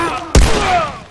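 A single loud gunshot from The Last of Us game lands sharply after a brief quiet moment, followed by a ringing decay with game ambience.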